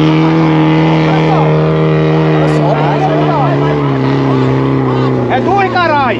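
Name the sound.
Duster 4x4 Sandero engine revving offroad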